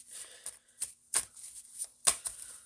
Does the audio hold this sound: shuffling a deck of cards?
yes